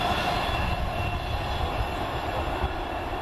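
Class 151 diesel unit 151.42 on a fast run from Victoria to Clitheroe, passing near Kearsley as a steady, loud rumble of wheels and engine that holds for several seconds with no voices.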